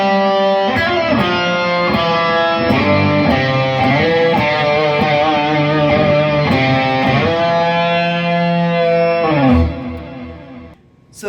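Electric guitar run through the octave fuzz from a Boss MS3 multi-effects unit, played as a steady sustained passage of buzzy, upper-octave-tinged notes and chord changes, loud and up front with no talking.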